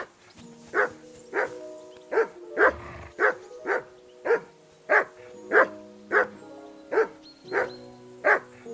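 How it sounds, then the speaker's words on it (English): A dog barking in the video game Kingdom Come Deliverance 2 gives about a dozen sharp, evenly spaced barks in a steady rhythm, close and fairly loud, with no talking. "Henry, that barking's driving me nuts. Get your dog to shut its beak"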